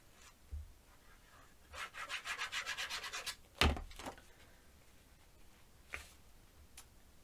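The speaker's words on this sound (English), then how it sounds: "And now I'll add glue here. So go around the perimeter." Glue applied by hand around the edge of a small paper circle for a mini album, heard as a steady run of quick rhythmic rubbing strokes mid-clip, framed by a few isolated taps and clicks.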